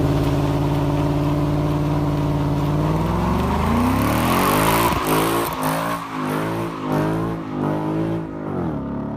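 A new Ford Mustang driving hard, with a loud, close engine note rising and shifting in pitch, then tire squeal and road noise as it speeds away.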